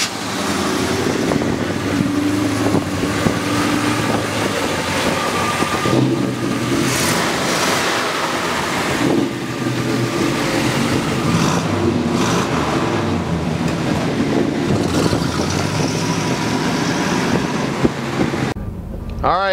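A numbers-matching 1967 Chevrolet Chevelle SS396 convertible with a big block V8 rumbles loudly and steadily while driving, its engine note rising and falling with throttle throughout, heard from close by.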